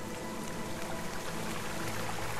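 Steady rushing water from a waterfall in the RiME video game, a continuous broadband roar heard alone at moderate volume.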